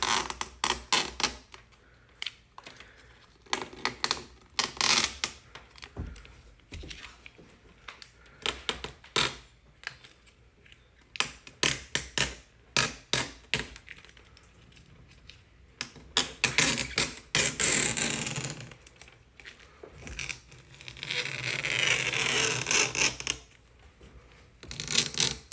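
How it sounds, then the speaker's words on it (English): Adhesive tape slowly peeled off a rear hatch spoiler on a 2002-2009 GMC Envoy, giving bursts of close, crackly tearing and creaking, with a longer continuous rip near the end. "So we're gonna pull this tape along here. Really slowly."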